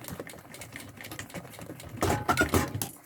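A sewing machine stitches over piping on a thermal backpack, a close, rapid mechanical rattle that runs lightly at first, then grows louder and denser in the last second.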